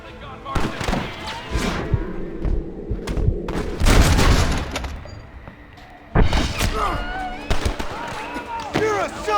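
A Gatling gun fires during a shootout in Red Dead Redemption: rapid bursts of rattling shots and heavy thuds come in clusters, with a loud peak midway, mixed with shouting voices and game effects.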